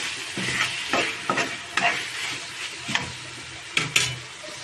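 Tomatoes sizzle and fry with chili powder in a pan while being stirred, a close, steady crackle broken by repeated scraping and stirring strokes, with no talk.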